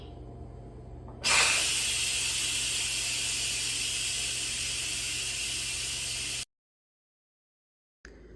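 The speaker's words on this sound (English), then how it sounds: "so let's quick release the steam." An Instant Pot cooking frozen potstickers vents its pressure in a quick release: a loud, harsh steam hiss bursts in suddenly, holds steady for about five seconds, then cuts off abruptly into silence.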